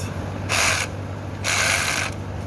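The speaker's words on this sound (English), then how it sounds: "I'm gonna use this short 15. Here you go. It's loosening. Got it loose." A ratchet with a short 15 mm socket clicks in two bursts as it loosens a bolt during catalytic converter replacement on a 2015 Buick Verano, close and distinct over a low hum.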